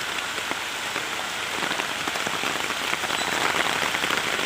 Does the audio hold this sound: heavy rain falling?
yes